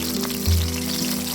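Chopped onions fry in hot soybean oil in a wok, giving a brief, steady, fairly loud sizzle with a low hum beneath and no voices.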